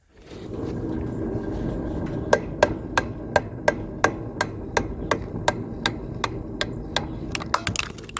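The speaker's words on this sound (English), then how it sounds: "I just used a hammer, a block of wood, hammer it all on" Hammer blows drive a bearing buddy onto a trailer hub through a wooden block, about fifteen sharp, evenly spaced knocks close by after a steady background hum.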